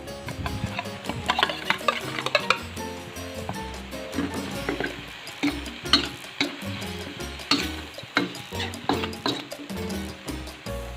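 Frog curry with cha-om and vegetables stir-frying in a pan: steady close sizzling with repeated scraping and clanking of a utensil stirring against the pan, continuous throughout.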